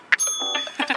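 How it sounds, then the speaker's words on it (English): A service bell on a counter is struck once, giving a bright, sharp ding near the start that rings on under background room noise and faint voices. "Bubba, ring the bell for service."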